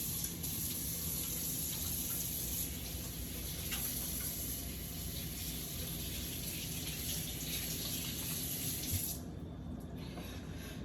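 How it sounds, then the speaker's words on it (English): Hands being washed under a running kitchen tap, a steady broadband gush of water that continues loudly and evenly, then cuts off near the end as the tap is shut. "let me wash my hands"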